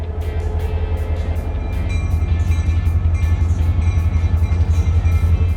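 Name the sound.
Great Smoky Mountains Railroad train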